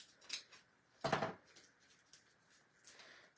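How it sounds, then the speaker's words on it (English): Scissors cutting out a paper bow, a few close crisp snips with one louder clipped cut in the middle, quiet in between. "this bow, I automatically know I want that popped, so just gonna cut that."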